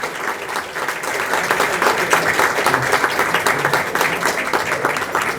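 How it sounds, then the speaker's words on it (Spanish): Diners applauding a guest speaker at a dinner event, loud, close clapping from many hands with a lively, slightly uneven rhythm, rising after a softer start and holding steady. "Un gran aplauso."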